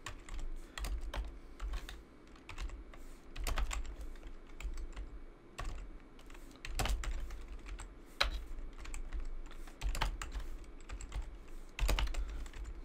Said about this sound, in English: so I might be typing a little bit slower